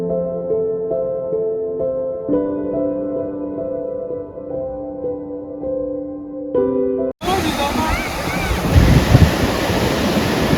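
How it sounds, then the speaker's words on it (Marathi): Waves wash in steadily and loudly for the last three seconds, after a stretch of tonal music-like sound with no water audible. "पाण्याचा आवाज वा."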